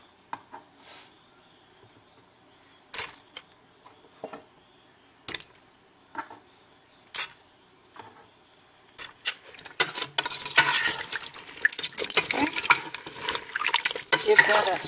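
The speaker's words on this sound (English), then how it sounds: "Give that a stir." Sausages, potatoes and Brussels sprouts are stirred in a pot of water on high heat, with a few sparse clinks and scrapes followed by a steady, louder run of stirring and sloshing near the end.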